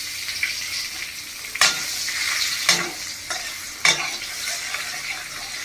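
Cumin seeds, bay leaf, whole garam masala and onion fry in hot oil for a fish-head muri ghonto, a steady close sizzle broken by three sharp scraping stirs of the pan.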